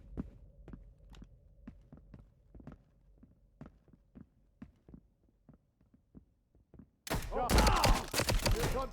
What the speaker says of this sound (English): Here's gunfire.